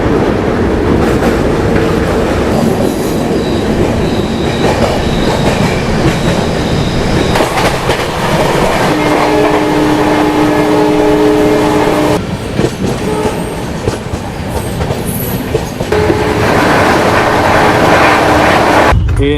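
Palace Queen Humsafar Express train running at speed near Surat station, a loud continuous rumble with rattling carriages and clatter, heard close from inside, with tonal squeals or horn notes at times.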